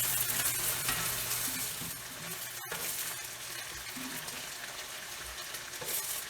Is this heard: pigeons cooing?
no